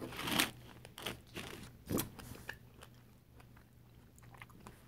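Homemade chocolate-covered strawberries being eaten close to the mic, with crisp bites into the chocolate shell and soft wet chewing in a quiet room, a few louder crunches early on, then fainter mouth sounds.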